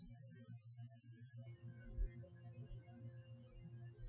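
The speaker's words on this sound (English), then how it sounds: "My air conditioner's making that sound again." A faint, steady low hum from an air conditioner, with a slow throbbing pulse running underneath it and no other sounds over it.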